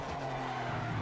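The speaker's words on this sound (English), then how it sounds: "See that lateral sliding there?" Sustained tire skid from a race car sliding sideways through a corner in the Project Motor Racing game, a steady broadband scrub with engine drone beneath, loud and continuous for about a second.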